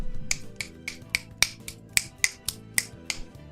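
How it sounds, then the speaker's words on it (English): Finger snapping, about a dozen crisp sharp snaps in a fairly steady rhythm, close and clear with no talking. "Snapping his fingers."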